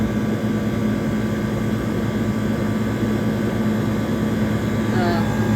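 A 1978 Comfort-Aire Quietmaster air conditioner compressor runs with a constant, steady hum and drone, heard close up and without a break.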